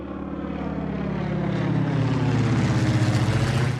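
An airplane in flight, heard as a steady, loud, continuous engine and propeller drone that holds level and close throughout, with no voices.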